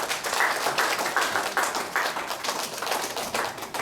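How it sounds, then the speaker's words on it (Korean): A church congregation applauds a children's choir during an anniversary Sunday worship service in Korea, a lively, fairly loud burst of many hands clapping with uneven swells and no speech over it. "박수."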